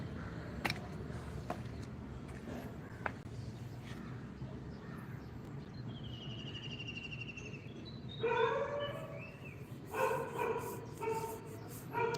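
Puppies bark and yip in a series of short, high calls that pick up toward the end, heard outdoors at moderate distance over steady background noise, with no talk.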